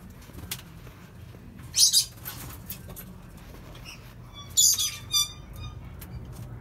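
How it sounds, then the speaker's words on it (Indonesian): Wambi birds, a Chinese species, call in a breeding cage, with two sharp squawking bursts and light chirps and wing flutters over a quiet background. "Itu Wambi burung Cina Tiongkok,"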